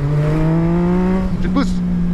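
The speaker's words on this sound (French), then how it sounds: "Une petite accélération." A Yamaha MT-09 motorcycle accelerates on a road trip, its engine note climbing steadily in pitch with a brief rising flourish near the end, loud and close amid steady road and wind noise.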